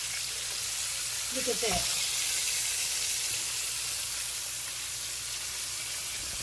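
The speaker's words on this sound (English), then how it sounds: "Just let that continue to fry." Quail frying in hot oil give off a steady, close sizzle and hiss that runs the whole time, with a brief voice speaking over it near the start.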